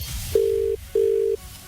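A telephone ringback tone sounds twice, each a steady electronic burr lasting about half a second with a short gap between, heard alone with no talk over it as a call goes out to a listener.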